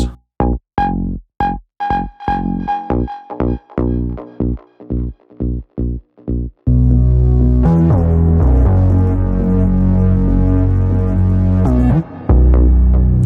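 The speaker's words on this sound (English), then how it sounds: "use quite a bit of distortion here on the mix bus just to give it some more bite" Electronic track with heavy distortion on the mix bus, opening with a run of short, punchy stabbed chords and beats before a dense, sustained, loud full mix with driving bass takes over.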